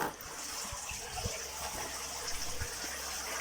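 Steady broadband rush of water from a shower spray pouring into a koi pond, continuous and fairly close, with faint low thuds and splashes underneath.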